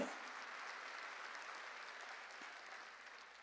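A church congregation applauding, a brief burst of crowd clapping that fades gradually over a few seconds.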